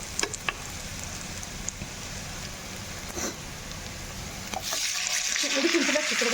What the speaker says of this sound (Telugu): ఉడికించిన చిక్కుడుకాయలు వేసుకుందామండి.